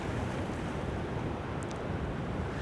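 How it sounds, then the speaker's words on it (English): Strong wind and rolling surf on Cambois Beach as the tide turns, a steady, loud roar of gusts buffeting the microphone over crashing waves with no break. "The wind's picking up as the tide's turned."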